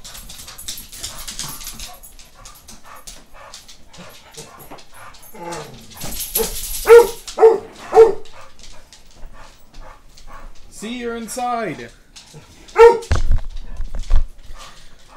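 A pit bull and another dog outside a glass window whimper and let out several loud barks in short bursts, mixed with a person talking.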